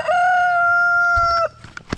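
A young rooster crows once, loud and close, a single long sustained cry that cuts off sharply, followed by a few soft clucks and rustles.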